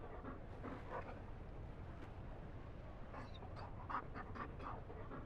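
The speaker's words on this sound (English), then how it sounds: "You found a dog? They don't breed Mabari in Olay." A Mabari war dog pants softly and steadily in Dragon Age: Inquisition, close and continuous over a low ambient rumble, with a few brief whimpering tones near the end.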